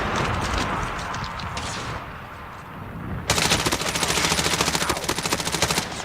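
Rapid automatic gunfire from the mobile shooter game Call of Duty Mobile rattles loud and continuous through the second half, after a denser burst of firing at the start and a brief lull.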